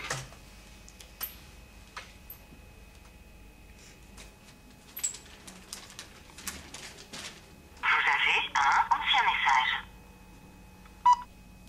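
Mobile phone keypad dialing tones in a French film scene: a quick run of distinct beeps in a rapid rhythm, close and clear after quieter room sounds, with brief speech nearby.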